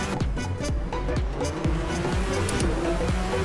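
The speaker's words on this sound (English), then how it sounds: "The sound of this car is amazing though, I love it." Racing car engine from a racing video game at the Macau street circuit, a loud continuous motor roar with rhythmic rising and falling revs as gears shift, steady throughout without pauses.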